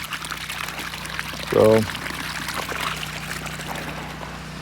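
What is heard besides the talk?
dirty water pumped from newly pounded well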